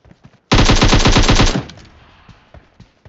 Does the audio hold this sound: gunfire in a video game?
yes